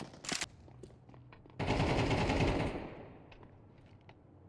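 An AK rifle firing in a Counter-Strike esports match: a brief early burst, then a long rapid full-auto spray that trails off into fainter scattered shots and game ambience.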